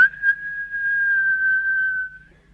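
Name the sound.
shrill whistle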